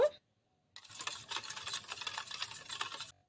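Powdered sugar being beaten by hand in a bowl for an orange cake batter, a close, continuous brisk scraping and whisking lasting a few seconds after a short pause, with no talking.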